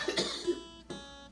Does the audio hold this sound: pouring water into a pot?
no